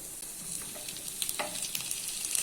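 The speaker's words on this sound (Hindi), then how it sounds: "अभी इसमें कटे हुए टमाटर ऐड कर लेते हैं" Chopped tomatoes hit softened onions frying in a pan for soyabean kofta curry. A soft, steady sizzle runs throughout, with a few small stirring taps near the end.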